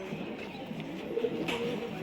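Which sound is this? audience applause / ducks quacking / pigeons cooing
pigeons cooing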